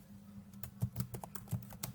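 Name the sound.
typing on a computer keyboard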